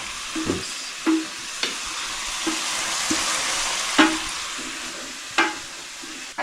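Oil sizzles steadily in a pan as clams dry-fry, broken by a handful of sharp scraping clicks from stirring at irregular intervals; no voices.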